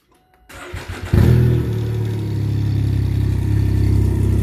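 Can-Am Ryker three-wheeler engine starting after a battery replacement: a short cranking burst catches into a loud, close, rumbling idle that holds steady and grows slightly, with no talking.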